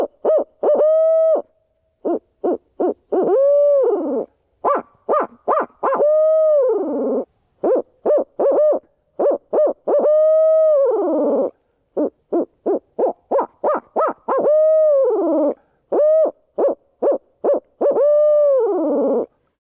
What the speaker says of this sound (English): A lot of guys ask me how I run my owl hooter in the mornings to locate birds.